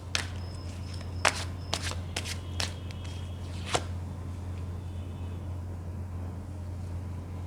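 Tarot cards are pulled from the deck one after another, about eight crisp papery snaps and flicks in an uneven rhythm over a low steady hum, then the handling stops and only the hum remains.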